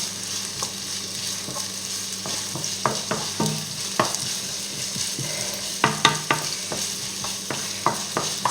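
Onion fries gently in a pan over a medium gas flame, a soft, even sizzle broken by occasional scraping and stirring clicks from a utensil.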